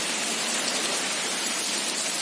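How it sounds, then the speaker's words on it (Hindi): Heavy rain pouring down outdoors at a memorial museum in Delhi, a dense, even roar of falling water, loud and steady throughout with no voices. "झमाझम बारिश हो रही है, झमाझम।"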